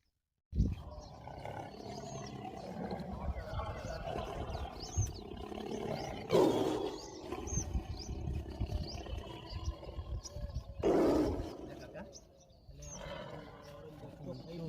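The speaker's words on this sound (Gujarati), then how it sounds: "આયો વાઘ આયો." A tiger roars twice in loud, broad bursts during a rural village comedy skit, with people talking and chattering throughout around it.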